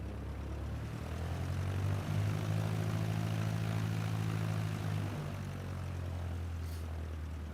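A propeller airplane passes overhead, its steady droning engine hum loud and continuous with strong low harmonics, swelling slightly as it comes closest and easing off toward the end, no talking.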